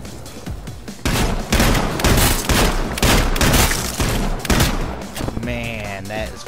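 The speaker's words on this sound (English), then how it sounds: "Shot him twice with a 12 gauge, Cookie." Repeated 12 gauge shotgun blasts in a shooter game, several loud booming shots in quick succession, with a voice talking near the end.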